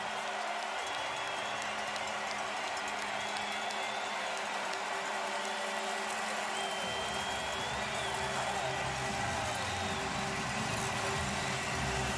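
Stadium crowd at a CFL game in Montreal, Toronto Argonauts against the Alouettes, roaring after an Alouettes touchdown: a sustained, dense wash of cheering from the stands, steady and broad without a distinct peak.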